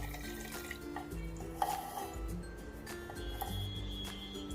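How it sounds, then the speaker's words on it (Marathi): Milk is poured into a container while making mango mastani, a soft, close liquid splash with faint clinks, continuous throughout. "आणि दूध घालायचं"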